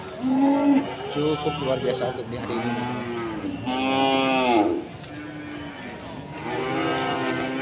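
Simmental cattle at a livestock market low with long, deep, drawn-out moos, several calls in succession, loud and near, while someone talks over them.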